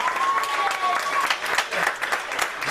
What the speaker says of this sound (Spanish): Démosle un aplauso a Cristo.